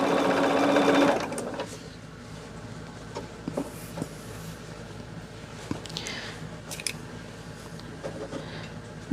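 A sewing machine runs in a fast loud burst for about a second, then stops, leaving quiet handling noises and scattered light clicks and rustles of fabric being moved.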